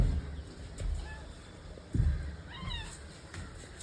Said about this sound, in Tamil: அதான்க்கா என் பூனை குட்டி